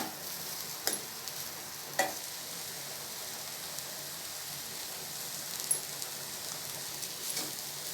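Carrot poriyal stir-fry being stirred in a pan, a quiet steady sizzle with a few soft scraping clicks of the spoon at irregular intervals.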